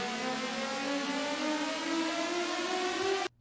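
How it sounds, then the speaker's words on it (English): A Yeltron riser synth effect from an electronic track's build-up: a dense, harmonic-rich tone sweeps steadily upward for about three seconds, loud and alone, then cuts off abruptly. "It's a Yeltron riser"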